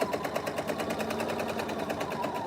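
A sewing machine stitching fabric with pins left in place runs steadily throughout, producing a fast, even mechanical rattle close up and fairly loud, with no talking over it.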